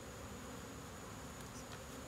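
A dense, steady buzz of many honey bees hums close by at an open hive during an inspection, unbroken and fairly quiet.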